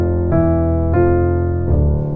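The opening four notes of the Dies irae Gregorian chant played as sustained, evenly spaced tones on a rich keyboard-like instrument, loud and close with no talking.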